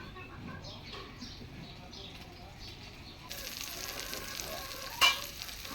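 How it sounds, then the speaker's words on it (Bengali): Onion frying in a home kitchen pan, with a soft continuous sizzle that grows louder partway through and a short clatter near the end. "পেঁয়াজটা বাদামি করে ভেজে নিব"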